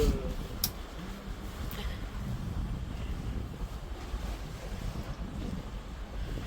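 A sailboat under sail alone in about 12 knots of wind: steady wind rushing past over broadband water noise, with waves washing against the hull and no engine, continuous and fairly close.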